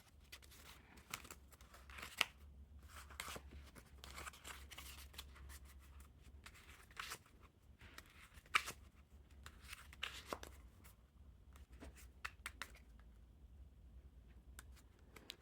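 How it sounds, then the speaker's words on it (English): Theory11 Notorious B.I.G. playing cards being packet cut by hand, faint, close, soft crisp snaps and slides of card packets, irregular and sparse over a quiet background hum. "They look pretty good in packet cuts. And they feel fantastic when packet cutting as well."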